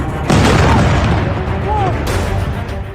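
Explosions from a strike on Iranian nuclear sites: a loud deep boom bursts in early and rumbles on, followed by a second surge, with voices and broadcast sound mixed underneath.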